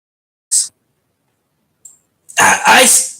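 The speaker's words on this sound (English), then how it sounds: "Sorry. I had a cough. I was trying to hold it in." A short sharp breath, a pause, then a loud close burst of coughing and throat clearing.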